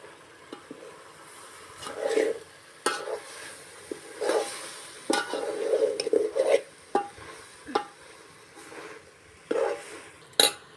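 Surti papdi valor bean curry being stirred in a pan, with repeated uneven scrapes and knocks of a spoon against the metal over a soft steady sizzle, close and moderately loud, no talking.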